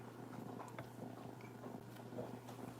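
A pet house cat named Tigger purrs steadily up close, a soft continuous low rumble with gentle rhythmic pulses and no voices over it.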